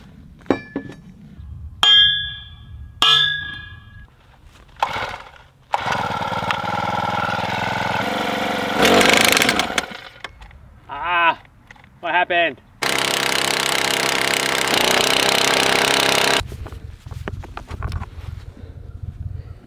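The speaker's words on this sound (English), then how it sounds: "Gas powered post driver." A gas-powered post driver pounds metal greenhouse posts for a high tunnel build, giving loud bursts of rapid, close hammering that start and stop several times, with short clanks and quieter pauses between runs.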